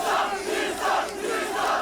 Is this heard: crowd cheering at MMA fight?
yes